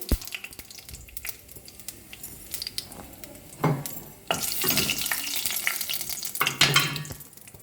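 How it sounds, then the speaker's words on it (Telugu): Whole spices (cumin, cinnamon, cloves, cardamom and bay leaf) fry in a kadai of oil and ghee, sizzling loudly in bursts with stirring scrapes and clinks, the crackle swelling strongly in the second half. "కడాయిలో రెండు స్పూన్ల నూనె ఒక స్పూన్ నెయ్యి వేసుకుని వేడి చేసుకోవాలి తర్వాత జీలకర్ర దాల్చిన చెక్క లవంగం యాలక్కాయి బిర్యానీ ఆకు వేసుకుని లైట్గా వేయించాలి"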